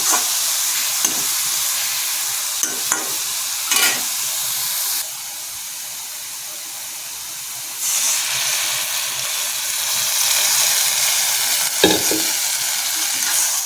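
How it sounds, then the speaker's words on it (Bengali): Papaya chutney cooking in a hot pan with chilli powder and black salt: loud, steady frying sizzle and hissing steam, with brief clattering stirs, a quieter stretch in the middle, then the sizzle flaring up again. "এবার এর মধ্যে আমি একটু সামান্য জল দিয়ে দেবো"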